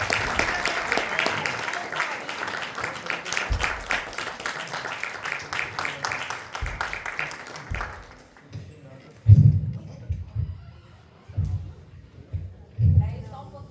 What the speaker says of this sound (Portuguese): Pessoal, eu queria pedir uma salva de palmas